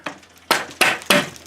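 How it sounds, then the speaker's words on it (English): Three sharp metallic knocks strike the oil pan of an Onan B48G engine in a Craftsman FF20 tractor, loud close-up blows spaced about a third of a second apart after a softer first tap. "Let's get this pan knocked off."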